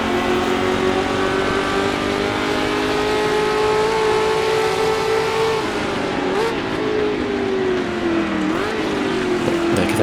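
Sports racing cars at the 1966 Sebring 12 Hours endurance race, engines roaring loud and continuous with sustained high revs, pitch sweeping as cars pass near and then shift, with no talk over the noise.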